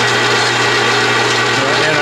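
An Atlas/Craftsman 12-inch lathe running a threading pass, giving a continuous, loud, close motor whine and hum with a steady drone throughout and no break.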